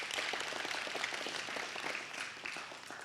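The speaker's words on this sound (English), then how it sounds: "That's an applause is in order there." Audience applause at a lecture, a steady dense clapping sound of moderate loudness that tapers slightly toward the end.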